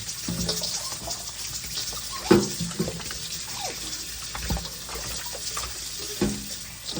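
Tap water running into a kitchen sink while raw chicken is rinsed, a steady splashing stream with occasional louder splashes and clinks as the meat is handled, no talk.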